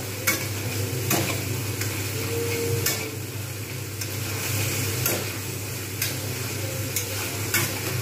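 Spice masala being stirred and fried in oil for an egg omelette curry, a continuous close sizzle with repeated rhythmic spatula scrapes and taps against the pan.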